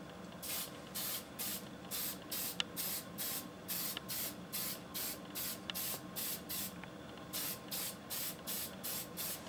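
A spray gun lays another coat of paint onto a truck in short, evenly spaced hissing bursts, about two per second, each one sharp and close, with brief quiet gaps in between.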